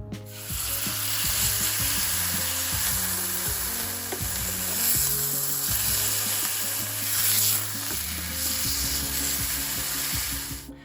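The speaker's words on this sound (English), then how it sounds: "So I'm only letting the steak cook for 30 seconds each side" Oiled steak sizzles in a hot frying pan, a loud, steady fry with crackling spits and a few knocks of the pan, with no talking over it.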